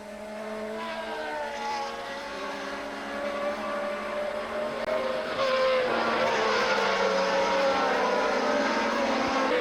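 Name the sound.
1979 Formula 1 race cars racing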